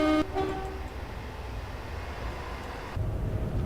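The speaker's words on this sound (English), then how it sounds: "I'm just taking a Pendolino over the Woodhead." A Pendolino train runs on the Woodhead line in a train simulator, giving a short horn toot at the start and then a steady rolling rumble that swells slightly toward the end.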